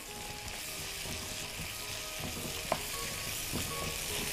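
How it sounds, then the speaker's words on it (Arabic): Food sizzles steadily in a frying pan as it is stirred, with soft scraping strokes and a sharper clack near the middle, a continuous close hiss with no talking. "نقلب كده تقليبه"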